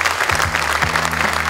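An audience at an awards evening applauds, with steady, dense clapping throughout and a low voice speaking over it, apparently announcing names.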